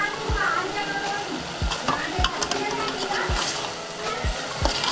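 A pan of wild vegetable curry with coconut is stirred, giving a continuous close frying crackle punctuated by several dull scraping thuds of the spoon against the pan, with faint voices underneath.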